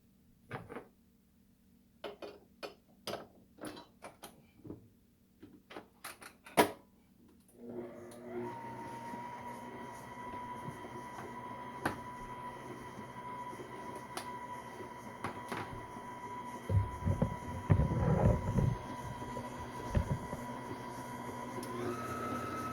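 Electric mixer creaming sugar and butter for a caramel pound cake, a steady motor whir starting partway through after a few knocks and clatters, with louder rattling bursts near the end.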